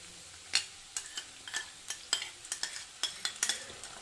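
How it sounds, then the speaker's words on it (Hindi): Spring onion and red chili sauce frying in a pan, a soft sizzle broken by a dozen sharp scrapes and clicks of a spoon stirring against the metal at an uneven rhythm, close and fairly quiet with no voices. "वो डाल देंगे अपन इसमें और अच्छे से इसे फ्राई कर देंगे 1 मिनट के लिए"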